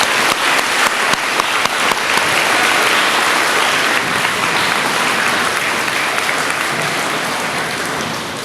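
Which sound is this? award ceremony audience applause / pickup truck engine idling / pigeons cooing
award ceremony audience applause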